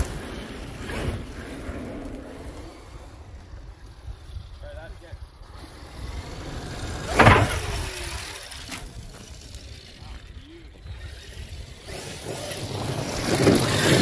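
A Traxxas X-Maxx RC truck drives and hits a ramp: a continuous whirring, buzzing motor drone with a sharp impact burst near the middle, heard outdoors alongside a voice.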